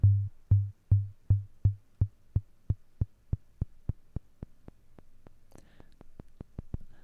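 Synthesized sine-wave kick drum in Ableton Live, a steady run of about twenty deep booming hits whose long tails shorten as the decay is turned down, leaving tighter, quieter thumps by the end.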